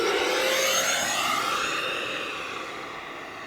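A giant radio-controlled model jet aircraft roars loudly overhead, its turbine whine steady and close before gradually fading as it flies away.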